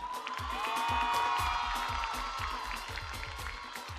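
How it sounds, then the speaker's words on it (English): An audience applauds beauty pageant contestants in beachwear at a Miss Seychelles event, with steady, dense clapping and crowd noise throughout, fairly full and sustained over a background hum. "Round of applause for them."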